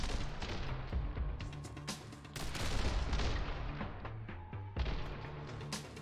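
Slow-motion gunfire in The Hong Kong Massacre video game: dense, heavy shots and booming impacts crowd together into a continuous loud barrage, with a few brief dips between bursts.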